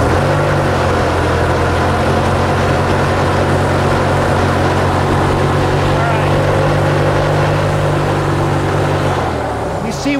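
A boat engine is given throttle, a loud steady motor drone with a deep rumbling hum that holds constant for several seconds before easing off at the end.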